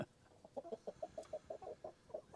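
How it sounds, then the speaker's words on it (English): A backyard rooster gives a rapid series of about a dozen short clucking crow notes, fairly faint and slightly distant, in an irregular quick rhythm with no talking. "He gets in a crowing mood and he doesn't stop."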